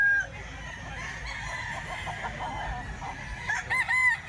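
Close by, a nine-month-old stag rooster crows and clucks, with brief sharper calls near the end over a quiet farmyard background, no talk heard.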